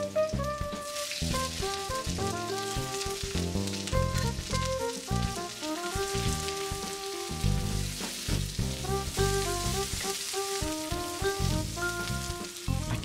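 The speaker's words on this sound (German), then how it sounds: "Wir geben Knoblauch und Zwiebel in die Pfanne und braten diese an." Garlic and onion sizzle in hot oil in a pan for a Thai red curry, a continuous crackling fry heard beneath background music.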